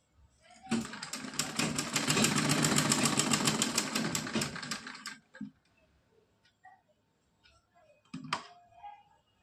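A sewing machine stitches net and lace fabric for a dress, running in one steady, fairly loud burst of about four seconds before stopping, followed by light handling noises and a brief second start near the end.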